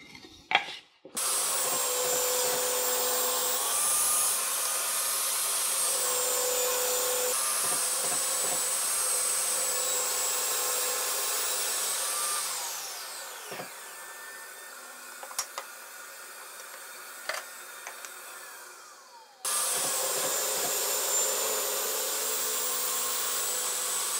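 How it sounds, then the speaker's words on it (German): A circular saw cuts wooden splines with a steady high whine, with brief pauses and clicks before the motor spins up again. "womit ihr Splines mit genau der Dicke des Kreissägeblatts sägen könnt"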